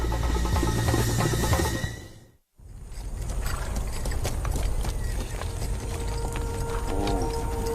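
Hooves clatter in a quick, uneven rhythm, then cut out briefly before continuing as a steady drumming beat receding with faint noise.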